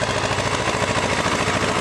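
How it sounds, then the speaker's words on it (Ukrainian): A T-25 tractor engine runs while pulling a plough through virgin field soil, giving a steady, loud, rhythmic diesel chug with constant pulsing and no voices. "Трактор Т-25 з цим плужком справляється, проблем ніяких не бачимо."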